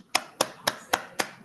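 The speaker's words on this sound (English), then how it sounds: "You can unmute yourselves if everybody wants to give a nice round of applause." Five evenly spaced sharp claps, close and fairly loud, from a member of an online poetry-reading audience clapping alone over a quiet background.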